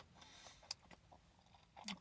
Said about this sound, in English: adds a lot of texture. It's crunchy bacon.